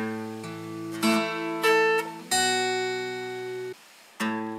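Clean electric-toned guitar plays the intro riff of a Vietnamese song, a handful of plucked notes and sustained chords ringing out one after another, close and clear with brief silent gaps.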